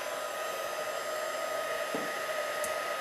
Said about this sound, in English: now you are going to use your embossing gun and you're going to emboss